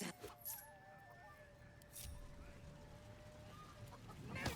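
Chickens cluck during a chicken chase in a video game, short pecking clucks and thin squawks over a faint, steady ambient bed, with a few quick louder bursts.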